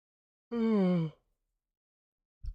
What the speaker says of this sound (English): I have to keep on yawning.